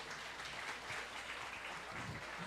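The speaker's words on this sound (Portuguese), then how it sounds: "Dê uma salva de palmas aí para os nossos colos" Faint, steady applause from a church congregation, an even wash of clapping with a few voices murmuring underneath.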